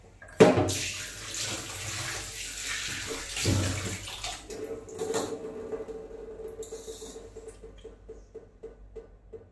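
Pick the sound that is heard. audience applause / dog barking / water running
water running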